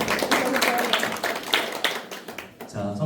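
A church training-school audience claps in a lively, uneven burst of overlapping hand claps, loud and close at first, then thinning out before voices come in near the end.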